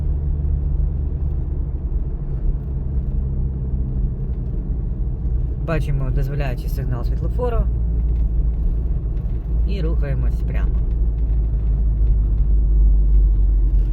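A steady engine rumble and road noise from inside a car moving on a city road, with someone talking over it partway through.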